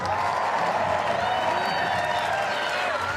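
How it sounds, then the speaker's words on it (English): A packed stadium crowd at a track final cheers and applauds continuously, a dense roar of clapping and shouting with faint whistles rising through it. "Listen to the crowd."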